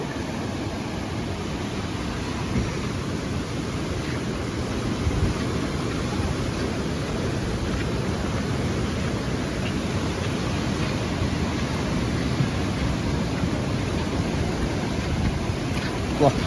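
Steady, loud rushing of floodwater through eight open gates of Iranaimadu tank dam, a dense broadband roar that holds constant throughout with no breaks.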